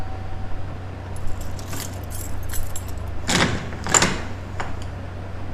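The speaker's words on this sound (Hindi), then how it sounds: "डीनो भाई दरवाजा खोलना।" Keys jangle in a few bright metallic bursts over a steady low hum, followed by the rattle and click of a door being opened nearby, with no talking.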